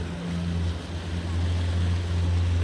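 A speedboat swings around in a turn on the backwaters near Kumarakom and Thannirmukkam, its motor a steady low droning hum mixed with rushing water and wind noise, continuous and close.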